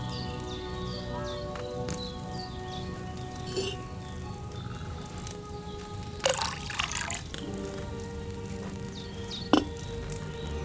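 Wine poured into a cauldron in Kingdom Come Deliverance 2, heard as soft, irregular liquid drips and splashes over a quiet ambient background, with a couple of sharper splashes near the end.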